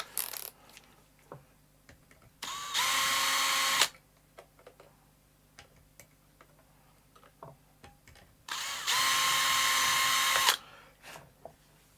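A yellow power screwdriver whirs loudly in two sustained bursts, each a few seconds long, with light clicks and tapping of small parts in between.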